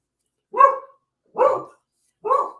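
A dog named Marley barks three times, loud and close, each bark short and evenly spaced against silence.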